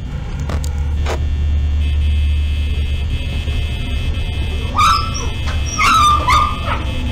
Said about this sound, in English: Two German Shepherds going at it.